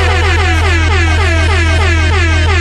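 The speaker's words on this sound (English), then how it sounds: "Hit my air horn." A loud, sustained air horn blares continuously for a few seconds, a harsh, blaring tone with no talking.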